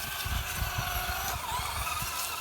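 A Traxxas Slash RTR radio-controlled truck accelerates while turning, its small electric motor giving a quiet, buzzing whir with short bursts of wheel and gravel scrabble, heard alone at a modest distance.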